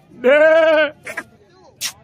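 At a livestock market, a goat lets out one loud, close, wavering bleat, followed by brief snatches of people talking nearby.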